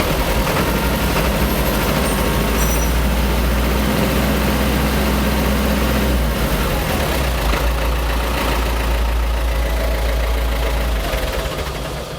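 A Ford 7710 tractor engine idles with a loud, steady low diesel rumble and a slight knocking chug, holding even throughout with no voices.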